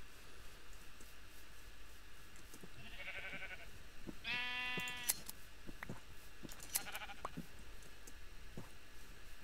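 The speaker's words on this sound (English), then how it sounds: "there's so many sheep to shear" Sheep bleating in the Minecraft video game, a few separate bleats spread across a steady background hum, with no voices over them.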